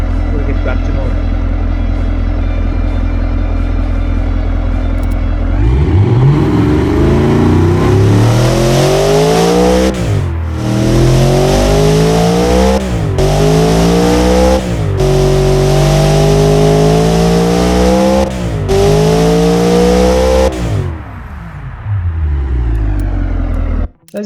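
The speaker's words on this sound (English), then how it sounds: "it looks and it sounds amazing and elegant at low RPM, and it sounds very brutal at high RPM" Sport/luxury sedan engine in the Automation car game idles low, then revs hard through repeated rising sweeps with brief drops between them, loud and close throughout.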